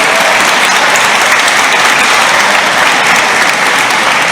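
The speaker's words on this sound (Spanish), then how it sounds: "si hacen un aplauso fuerte" Loud, dense applause from an audience at a public book event in Cusco, a steady wash of many clapping hands filling the whole stretch without a break.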